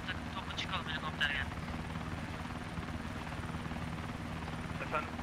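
Helicopter in the Arma 3 video game, its rotor beating steadily and loudly throughout, with voices calling out briefly over it.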